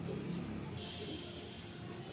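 Pet pigeons cooing near a rooftop loft, low soft repeated coos blending into steady background hiss, fairly quiet with no speech over them.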